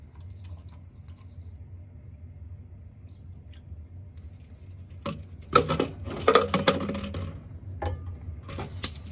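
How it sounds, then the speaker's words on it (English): Water warmed in a microwave is poured from a bucket into a sink during an ice storm in Houston, with the tap not working. Faint background rumble gives way to a few seconds of close splashing and gurgling. "I'm gonna pour it into the sink."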